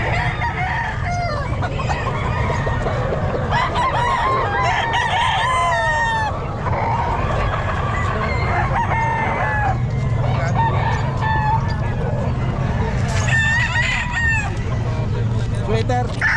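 Several Sweater gamefowl roosters at a busy pet market crow repeatedly and overlap one another, with clucking in between, over a constant crowd hum and some indistinct voices.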